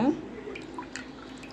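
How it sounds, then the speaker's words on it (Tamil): Juice from a squeezed lemon drips into pani puri water in a vessel, making a few faint, scattered close drips over a quiet background. "லெமனையும் புழிஞ்சு விட்டுக்கோங்க."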